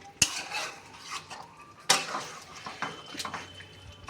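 Cashew paste is stirred in a pan with chicken frying for a Bengali-style chicken dish: sharp spoon scrapes and knocks against the pan, two strong clacks among lighter scraping, with faint sizzling underneath and no voices.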